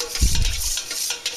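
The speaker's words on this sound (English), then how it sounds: "I'll mix it so it dissolves." A spoon scrapes and swirls through hot water and molasses in a bowl for barley bread, a brief louder knock at the start, then softer stirring.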